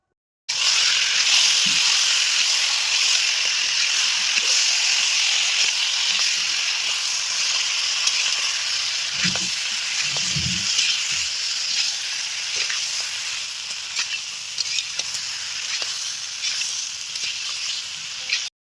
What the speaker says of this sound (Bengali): খুব ভালোভাবে আলুর সঙ্গে এবারে কাঁকড়াটাকে কষিয়ে নেব।